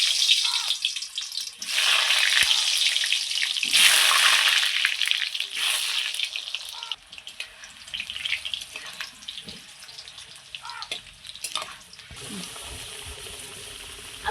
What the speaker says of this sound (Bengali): এইবার আমি আলুগুলো ভেজে নেব।